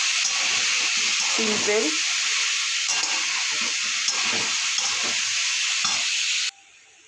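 Cabbage sizzles and hisses in a hot pan with potato and green chilies, a steady frying crackle running for several seconds beneath someone speaking, then cutting off abruptly near the end.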